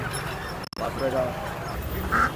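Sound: Chinese duck quacking at a market

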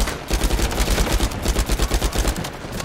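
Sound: gunfire in the video game Uncharted 4

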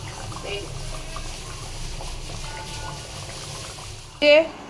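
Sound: hilsa fish curry simmering in a pot

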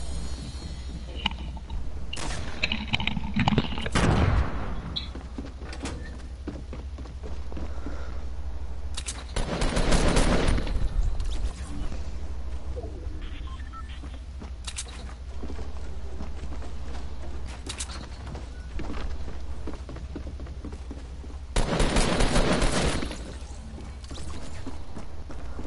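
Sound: gunfire in the video game Fortnite

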